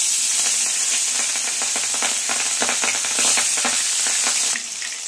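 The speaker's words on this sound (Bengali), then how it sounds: "তেল গরম হয়ে গেছে, এখানে মাছ দিয়ে দিচ্ছি একটা একটা করে।" Pieces of fish are fried in hot oil in a wok, a loud, continuous close-up sizzle with crackling pops throughout.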